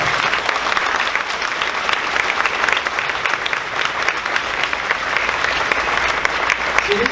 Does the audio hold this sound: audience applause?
yes